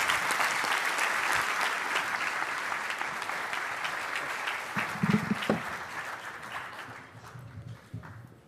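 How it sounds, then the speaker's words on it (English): Sustained audience applause at a military conference keynote, dense and steady, tapering off toward the end with a few scattered claps. "Please give General Tsai a big round of applause."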